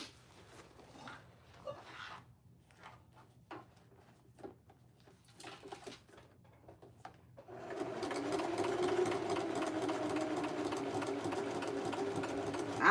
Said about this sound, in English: it's stitching because the needle is going through the leather